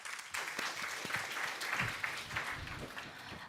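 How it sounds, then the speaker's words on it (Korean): Applause from an audience at an international symposium on crop wild relatives fills the hall, a continuous wash of many hands heard at a distance and fairly quietly, with scattered individual claps. "큰 박수 부탁드리겠습니다"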